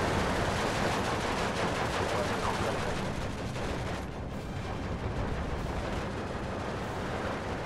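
A flak gun fires on a tank in the World War II strategy game Steel Division 2, set in Finland. The result is a dense, relentless wall of gunfire and booming blasts that stays loud and continuous throughout.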